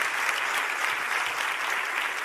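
Congregation applauding at a youth church conference, a dense, steady wash of clapping that holds evenly throughout with no voices on top.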